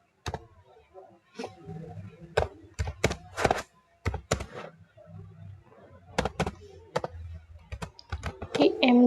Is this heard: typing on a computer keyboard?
yes